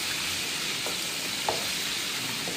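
Ginger and garlic frying in a pan make a close, steady sizzling hiss broken by a few soft stirring scrapes, with no voices.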